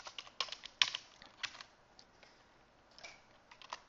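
Someone types code on a computer keyboard while editing a PHP website. Irregular bursts of soft, close keystrokes come alone, with short pauses between clusters and a few sharper clacks.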